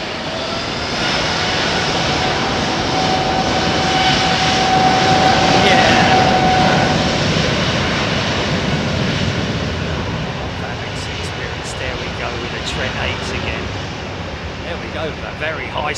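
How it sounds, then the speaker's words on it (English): A Virgin jet airliner makes a very high-speed takeoff at London Heathrow: a loud sustained engine roar that swells through the middle and slowly recedes, with faint clicks near the end. "Very high-speed takeoff for that Virgin 339."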